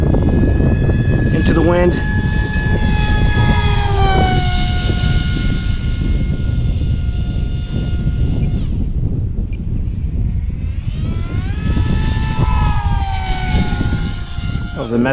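An 800 mm RC Astro Z pusher jet on a 4S battery makes a throttle pass on a windy day, its high electric motor whine rising and falling loudly as it flies close past, with wind buffeting and people talking.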